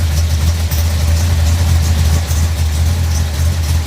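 A warmed-up Pontiac 428 V8 street/strip engine with mufflers idles at about 1200 RPM, a loud, steady, deep rumble with a slightly lumpy pulse, no talk.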